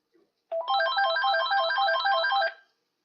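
A telephone rings with an electronic ringtone in one continuous burst lasting about two seconds, clear and fairly close, with no talking.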